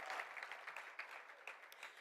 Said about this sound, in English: Let's give her one more applause for their continuing sponsorship of NALEO.